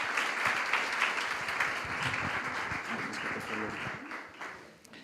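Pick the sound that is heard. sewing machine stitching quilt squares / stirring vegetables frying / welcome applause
welcome applause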